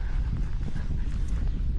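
A pony walks along, its hooves clip-clopping in a soft, uneven rhythm at moderate distance over a low background rumble.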